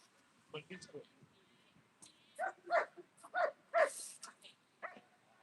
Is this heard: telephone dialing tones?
no